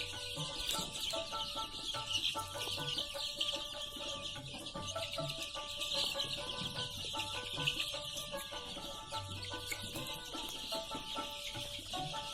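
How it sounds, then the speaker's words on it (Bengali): Native Bengali chickens cluck and call at a farm, faint and somewhat distant, with a busy, overlapping stream of clucks alongside chirping birds. "পুরো দেশি মুরগিগুলো চলে আসছে"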